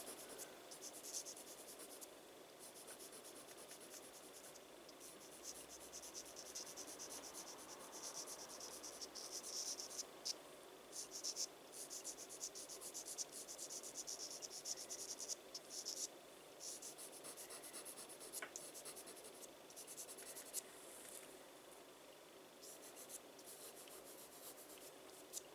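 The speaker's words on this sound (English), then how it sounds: "that's a pencil the same colour as the pastel" A coloured pencil, matched to the pastel shade, is drawn across paper to add detail to pastel peacock feathers. It makes a faint, steady, scratchy rubbing that continues softly and close throughout, with no talking.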